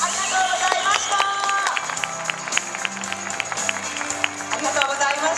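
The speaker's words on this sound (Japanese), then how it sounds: "大きな拍手をお送りください。" A crowd at a golf tour awards ceremony claps continuously at moderate volume, with scattered bright tones and a faint voice mixed into the steady patter.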